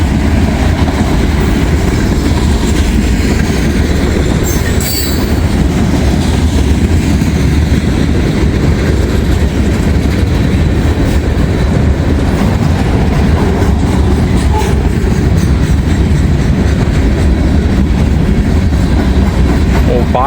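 A freight train of Southern boxcars rolls past close by, a steady loud rumble with rhythmic clickety-clack of wheels over rail joints throughout.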